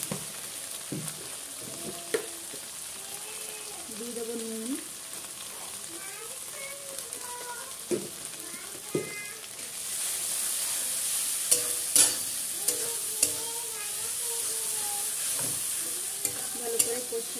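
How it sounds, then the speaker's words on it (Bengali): Chicken leg pieces with turmeric and spices sizzle and are stirred in a pan. A voice talks over the early stirring, then the frying grows louder and steadier with scraping spoon strokes. "ভালো করে কষিয়ে নেবো, যদি ভাজা ভাজা করবো আমি"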